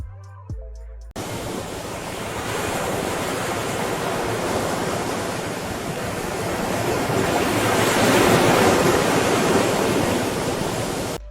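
Ocean surf rolling in along a seashore during a seaside walk, a steady broadband wash of breaking waves that swells louder toward the end, with some wind, after a brief quiet start.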